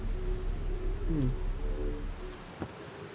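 Rain patters steadily in the space game Outer Wilds, with drops building up on a suit visor. A low rumble and tonal hum sit under the soft hiss, and a brief sharp tick lands near the end.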